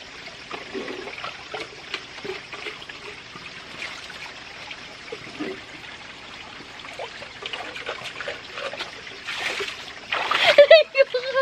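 People splash and bathe in a natural spring outdoors in the Philippines, with soft trickling water and scattered splashes under steady talk, and a louder burst of splashing near the end.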